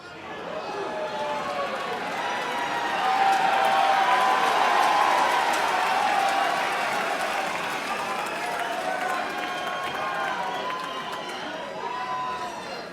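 A large arena crowd at the 2024 Mosconi Cup pool event applauds and cheers a shot by Mickey Krause, steady loud clapping that swells in the middle and then tapers gradually, with whistles and chatter mixed in.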